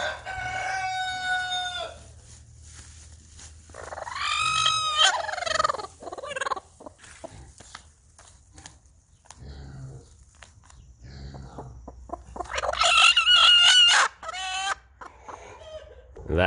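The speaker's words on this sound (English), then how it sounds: "That's a broody hen." Chickens in a barnyard chicken coop, including a broody hen, give loud, drawn-out calls and clucks in several bursts over steady background noise, with no talking.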